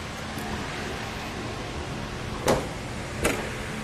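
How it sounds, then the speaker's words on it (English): Kuat NV 2.0 hitch bike rack for two bikes folding up on a 2018 Cadillac XT, two sharp metallic clacks over a soft steady hiss, close and fairly quiet. "And everything folds up nice and neat, like so"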